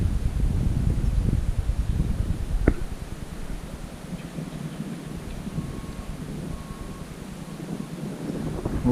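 Wind gusts over a lake at a carp fishing spot, a low rumbling buffet against the microphone with a rustling texture and one sharp knock partway through, with no voices.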